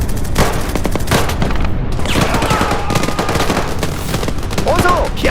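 Gunfire and machine-gun bursts fill a staged armed rebellion scene in North Korea. Loud, dense volleys of rapid shots continue throughout, with booming reports, and voices shout beneath them.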